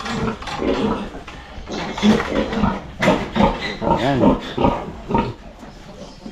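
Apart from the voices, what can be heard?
pigs grunting on a farm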